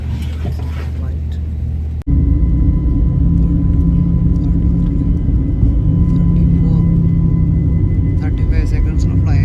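An Etihad airliner takes off with a loud, steady engine roar that starts abruptly and holds close and constant, heard from inside the cabin with faint talk in the background.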